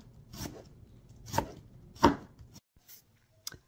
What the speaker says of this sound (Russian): Шинкуете как хотите.